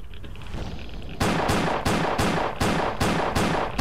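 Gunfire in the Lost Alpha shooter game: after a quiet lead-in, a pistol fires about eight sharp loud shots at a steady rhythm, roughly three per second, near and dominant.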